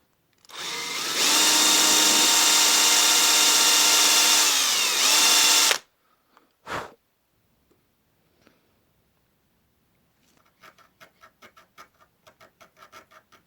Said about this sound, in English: I have to put something behind the board when I drill it